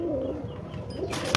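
A Napta pigeon at a pigeon sale gives a low throaty coo up close, a short rolling call, followed by a rustle.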